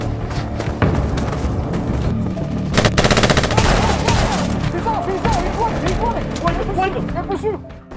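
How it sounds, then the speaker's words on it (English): Rapid bursts of movie gunfire crackle through a dense, loud action mix with music and voices, several volleys spread across the scene. "Jake is now engaged in gunfire with a group of bad guys led by Stone."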